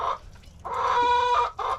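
A few close, throaty hen clucks, one drawn-out and warbling in the middle, with short calls before and after.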